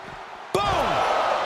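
A wrestler is slammed head first into an ambulance in the WWE 2K25 video game: one sudden, loud, heavy impact, followed by a ringing, sweeping tail and ongoing commentary.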